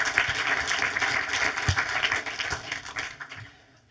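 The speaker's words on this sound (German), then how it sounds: "Einen herzlichen Applaus schon mal, Gerd Schneider." A seated audience claps in welcome for film director Gerd Schneider at a German film talk event, a steady, fairly close burst of applause that tapers off toward the end.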